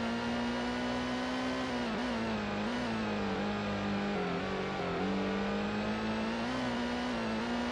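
In the Gran Turismo video game, a Toyota Supra RZ race car engine holds a steady, loud tone throughout, with only slight pitch dips and rises as the revs shift. No voices are heard.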